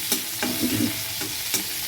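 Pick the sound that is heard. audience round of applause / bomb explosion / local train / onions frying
onions frying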